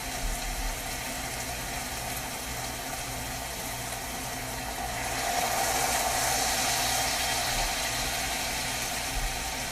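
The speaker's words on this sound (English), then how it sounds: "I'm going to put a little more water in with that" Water streams steadily into a cooking pan beside potatoes, steak and onions for about ten seconds. The rush grows a little louder and brighter halfway through, over a low background hum.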